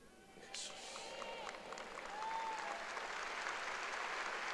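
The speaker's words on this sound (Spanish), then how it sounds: "dale un aplauso apasionado a Dios" A church congregation applauds together, steady clapping building and swelling slightly louder through the passage, with crowd noise and some voices mixed in.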